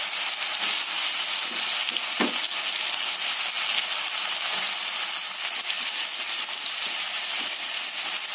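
Spices crackle and sizzle steadily in a hot pan, a dense close frying hiss throughout with a sharp pop or clink near the start, no voices.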